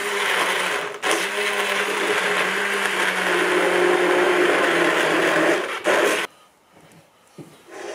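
An electric blender whirs steadily and loudly as it purées vegetable soup, running continuously for several seconds before switching off, leaving faint handling noises.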